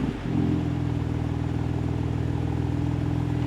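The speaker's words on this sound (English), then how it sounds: "Listen to that sound in that 3-liter twin turbo." A BMW M4 Competition coupe's 3-liter twin turbo engine rumbles close by, a short blip at the start settling into a loud, steady throbbing idle with a rich low tone.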